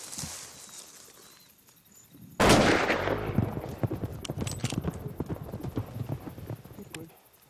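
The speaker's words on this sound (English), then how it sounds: "After the shot, we all thought it was a good shot." A rifle shot is fired at a Cape buffalo in long grass, one sharp, loud crack partway through. Rustling and jostling noise follows for several seconds afterward, then fades.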